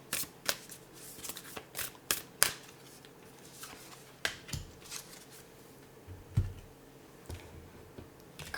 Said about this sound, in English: I will now draw a Moonology card to see what other energies are incoming for you.